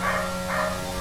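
A dog barks outside, two muffled barks about half a second apart, under the steady hum of F1 22 racing game audio.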